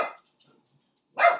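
A dog barks close by: one sharp bark, a couple of faint yips, then a second loud bark.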